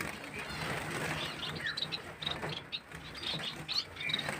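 Bengalese finches and pigeons in their coops give soft, high chirps and brief wing flutters, faint and scattered over a low, steady background hum.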